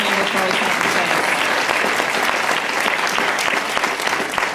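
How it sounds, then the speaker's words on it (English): A crowd at a political speech event applauds a congresswoman with loud, sustained clapping that fills the whole stretch evenly, with some voices mixed in. "we have to give another round of applause to the Congresswoman"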